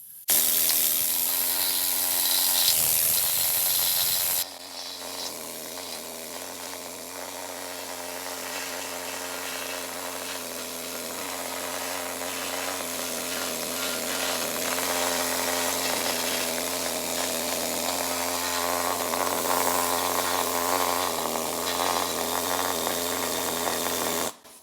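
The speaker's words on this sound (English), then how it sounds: "Here's a needle scaler." A pneumatic needle scaler chatters loudly and continuously against the body of an old Ford, knocking off undercoating and loose rust; after a brief harsher burst at the start, a steady dense rattling buzz runs on without any talk.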